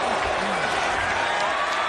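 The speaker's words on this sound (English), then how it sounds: "Thousands of people here on their feet clapping in appreciation for these two athletes." A wrestling crowd of thousands stands and claps for two athletes, a dense, even wash of applause that fills the whole stretch, with a voice talking over it.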